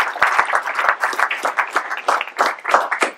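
An audience at a French mayor's New Year address in Saint-Servant claps for the volunteers, a dense, lively round of applause with a few sharp individual claps standing out, steady throughout.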